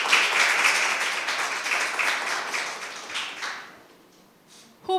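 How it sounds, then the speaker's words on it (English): Audience at a school impromptu speaking competition applauds for several seconds, then the clapping fades out and a brief sound cuts in at the end. "Please applaud our speakers for their excellent presentations this evening."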